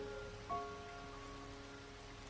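Steady monsoon rain falls on Sinhagad fort, a constant soft hiss with a faint tonal hum underneath and one brief knock early on, with no speech.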